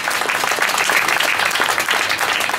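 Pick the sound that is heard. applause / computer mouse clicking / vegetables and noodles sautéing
applause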